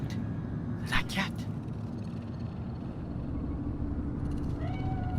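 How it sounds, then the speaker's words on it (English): A cat meows in the Cyberpunk 2077 video game, two quick calls near the start and another near the end, heard over a steady low rumble of city ambience. "Fine-looking feline. Thought they'd all disappeared from the city."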